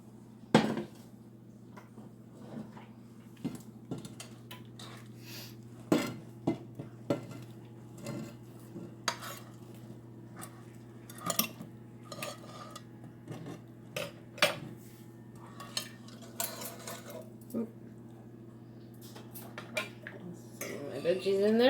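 Steamed kale and carrots are transferred into a bowl with scattered clinks and taps of utensils against dishes over a steady low hum, fairly quiet.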